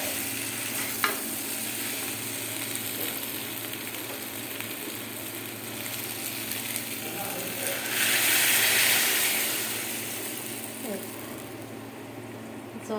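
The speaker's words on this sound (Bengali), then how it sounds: "জল ঢেলে দিলাম" Hot water is poured into spices frying in a pan in a home kitchen: a steady oily sizzle with light stirring swells into a loud, bright hissing surge midway, then eases back to a simmering crackle.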